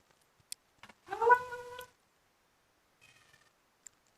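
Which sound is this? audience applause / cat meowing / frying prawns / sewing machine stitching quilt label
cat meowing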